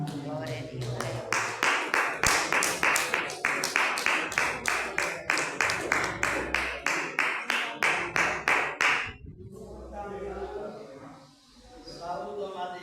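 A church congregation claps in unison, about twenty loud, evenly spaced beats in a steady rhythm that stop abruptly, followed by a person talking.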